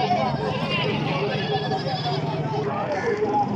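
Goats bleat at a busy Faisalabad livestock market, several overlapping wavering calls carrying over a constant crowd babble and nearby voices.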